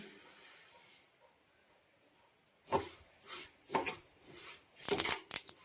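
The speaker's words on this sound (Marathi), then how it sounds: "तीळ तडतड भाजलेल्याचा आवाज येतोय बघा, तडतड उडतात आहेत तीळ सर्वकडे." Sesame seeds roast in a pan after peanuts, giving a soft hiss that drops out, then bursts of dry crackling and popping in uneven clusters, close and fairly quiet.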